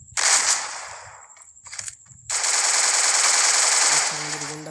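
Rapid automatic gunfire from a video game during a one-versus-one custom match, loud bursts with a short gap between them followed by a long sustained volley.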